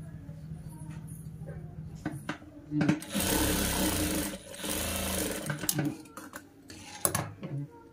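A sewing machine joins the shoulder seam of a frock made from an old saree, its needle chattering in quick, close bursts with short pauses and soft handling clicks between runs.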